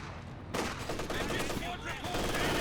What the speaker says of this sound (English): Heavy mortar strike landing as well.